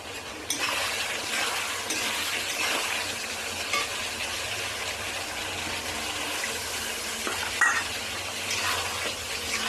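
Potatoes being sautéed in a pan: a continuous soft sizzle with occasional scraping and stirring clinks from a spatula, close and steady, with no talking.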